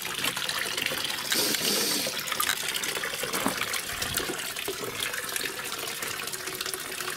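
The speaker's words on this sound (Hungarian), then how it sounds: "itt elfolyik a mintavíz" Sample water runs continuously out of a pipe at the abandoned Rác thermal bath in Hungary, a loud, steady splashing gush with no voices.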